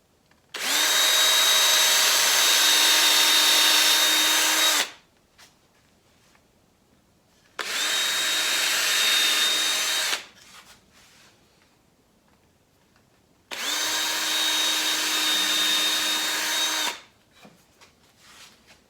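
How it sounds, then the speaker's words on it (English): A power drill with a 3/32 bit bores a pilot hole in wood for a screw, three loud, steady whirring bursts of a few seconds each, separated by near silence. "So get a little pilot hole going there. I'm going with a 3/32 bit here."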